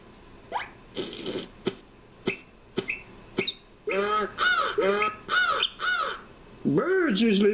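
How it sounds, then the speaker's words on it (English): Cartoonish bird caws and squawks in a Fisher-Price Read & Play game, a run of short separate calls followed by longer warbling, honking calls, close and fairly loud with no talk over them. "birds usually make me smile."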